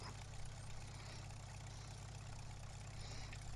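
A Case tractor pulling a fertilizer spreader in a farming simulator idles with a steady low engine drone, even and fairly faint, with no voices over it.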